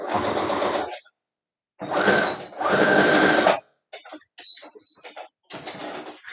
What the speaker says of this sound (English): So now we have the crotch seam sewn